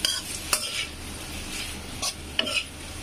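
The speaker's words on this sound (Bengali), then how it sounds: "তো ভালো করে এটা নাড়াচাড়া করে দেবো" Fried chicken being stirred in a pan for chowmein: a soft, continuous sizzle with a few sharp utensil scrapes and clinks against the pan, close and clear, no talking.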